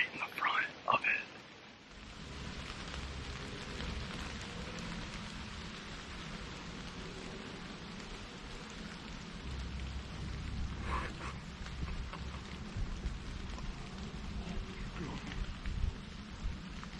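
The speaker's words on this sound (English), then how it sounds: "it's starting to rain so much" Heavy rain pours steadily during a Michigan bow hunt, a constant close hiss of drops after a few sharp knocks at the start, with faint hushed voices under it.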